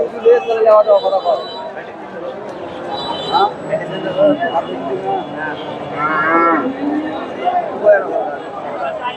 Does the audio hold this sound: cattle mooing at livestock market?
yes